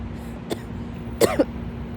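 A young woman's short cough and throat clearing outdoors in a park, one soft hack followed by a louder double cough against a low steady hum.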